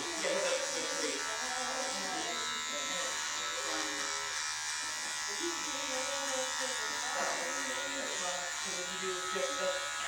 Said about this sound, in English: I lay the clipper like right against the skin, and I just kind of go in different directions